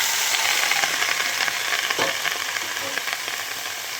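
Spinach frying with lightly fried vegetables in a pan makes a loud, continuous close-up hiss and crackle, with a brief stirring scrape midway and no talking.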